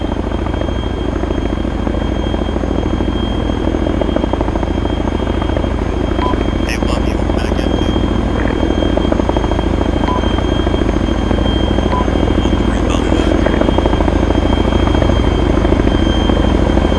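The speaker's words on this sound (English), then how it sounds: "Get in the chopper, go, go, go, go, go, get in the chopper" A helicopter in the military game ArmA 3 drones steadily and loudly from start to finish, its rotor and turbine noise constant while voices shout orders over it.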